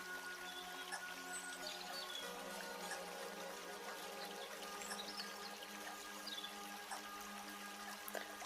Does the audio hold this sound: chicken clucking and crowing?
no